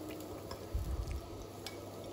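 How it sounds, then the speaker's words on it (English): Ginger and garlic sauté in a hot pan with a soft, steady sizzle, faint and close, and a brief low thump of stirring near the middle; no talking over it. "we need to saute the ginger and garlic"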